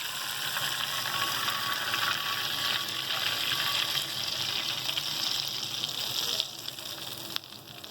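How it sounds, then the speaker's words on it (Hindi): Steady, loud sizzling from butter being poured as a hot tempering over beef karahi in a pan, a continuous crackling hiss with no voices. "ये मैं मक्खन का ऊपर से तड़का लगाऊंगी"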